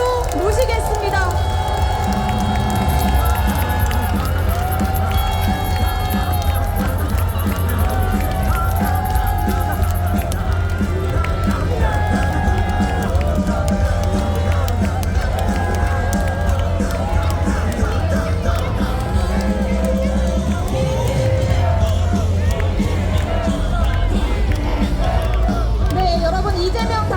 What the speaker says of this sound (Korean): 여러분 뜨거운 박수와 함성으로 모시겠습니다